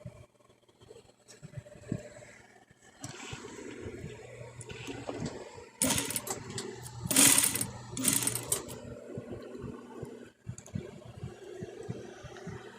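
Sewing machine stitching knit fabric along an armhole, a continuous mechanical hum that swells into louder faster whirring bursts midway, then eases off; close and fairly steady.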